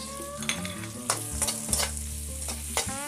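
Chopped medium onion hitting hot oil with sautéed garlic for pork menudo, a steady close sizzle broken by a few sharp stirring scrapes and clanks of a utensil against the pan.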